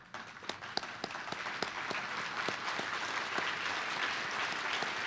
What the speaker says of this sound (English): would you please join me in standing and giving one more final round of applause for the class of